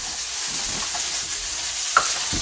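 Mushrooms sear in a hot pan with olive and avocado oil, giving a steady close hiss of sizzling with a few soft stirring clicks and one sharp pop, no voices.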